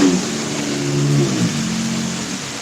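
A loud car revs and roars close by during a thunderstorm in Pittsburg, Kansas, its engine note climbing and then falling away as it passes over about two seconds.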